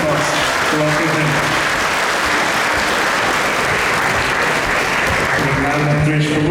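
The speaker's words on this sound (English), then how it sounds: "Can we give a big round of applause to welcome him?" An audience at a Sunday love feast at ISKCON Toronto claps loudly and continuously to welcome a visiting swami, a dense sustained ovation with faint voices underneath.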